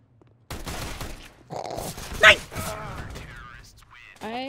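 Gunfire from a video game match: a few sharp shots among game sound effects and mechanical clicks, with voices talking over them.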